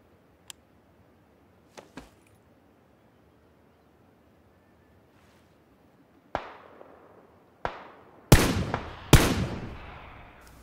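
Gunshots in the battle-royale game PUBG: a few faint distant cracks at first, then louder, closer shots with echoing tails that come more often toward the end, against near silence.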